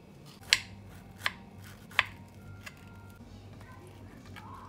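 A knife cuts through a vegetable sandwich, giving three crisp crunches in close succession followed by a softer cut, with a low background hum.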